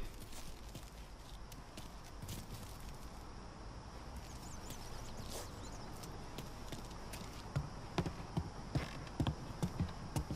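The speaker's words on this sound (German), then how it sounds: "Oh, voll laut die Schritte." Footsteps in the Mafia 3 game, faint at first and then a run of louder, clip-clopping steps near the end, set against a low hiss of ambient background.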